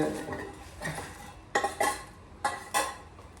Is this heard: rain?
no